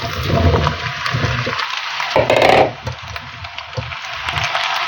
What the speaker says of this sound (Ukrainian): І заливаю водичкою, щоб покрило.